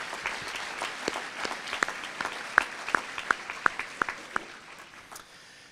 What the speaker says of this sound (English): Let's have another round of applause for our generous sponsors.